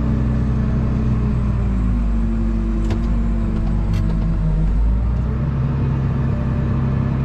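A Case IH MXM 155 tractor engine drones steadily at close range while the machine drives across a field, a constant low rumble with a couple of brief rattles partway through.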